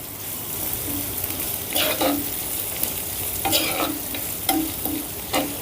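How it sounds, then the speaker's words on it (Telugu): Boiled potatoes cut into long pieces fry lightly in oil for an aloo pepper fry, with a steady sizzle and several scraping stirs of a spatula against the pan. "ఇది లైట్గా మనం ఫ్రై చేసుకుంటున్నాం"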